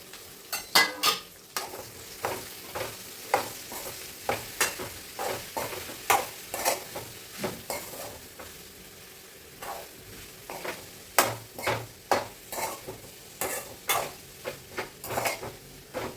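Okra pieces frying in a home kitchen pan, a steady sizzle broken by a run of sharp spatula scrapes and taps against the metal, repeated every half second or so, close and clear with no talk.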